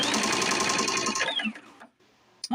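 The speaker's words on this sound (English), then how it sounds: "now we are ready to hit start, and it will start stitching" A Tajima SAI 8-needle embroidery machine stitches in a rapid, rhythmic mechanical chatter for about a second and a half, then slows and stops, followed by a brief click.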